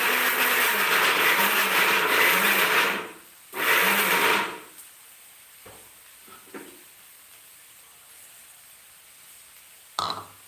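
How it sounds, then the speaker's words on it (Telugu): A mixer grinder grinds coconut paste for a beans curry, running in two loud whirring bursts of about three seconds and one second, followed by quiet kitchen clatter. "దీన్ని గ్రైండ్ చేసి తీసుకొస్తాను"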